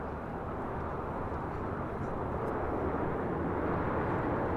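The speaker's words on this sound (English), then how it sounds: "So this JetBlue A321neo wearing the new colors." A JetBlue Airbus A321neo airliner in new colors arrives at LAX on flight 1773 from Newark, a steady, broad jet roar at moderate distance that swells slightly as it continues.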